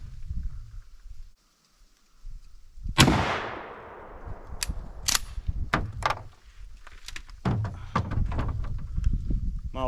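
A Remington 870 pump shotgun fires a single loud blast of Winchester 2 3/4 inch target loads with 8 shot, followed by a decaying echo, then several sharper clicks and clacks of the action being worked and handled nearby.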